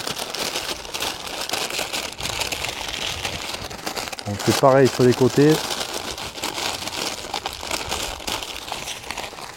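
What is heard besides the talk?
folding parchment paper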